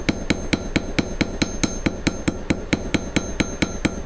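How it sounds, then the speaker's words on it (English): A cross peen hammer strikes silver metal to texture it, sharp metallic taps falling in a fast, even rhythm of about four blows per second, close and clear with no voices. "So I'm going to put some texture on this one using the cross peen"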